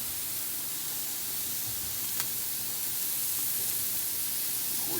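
Hamburger and sausage browning on a Weber griddle, giving a steady, even sizzle with no pauses or breaks that carries through the whole stretch.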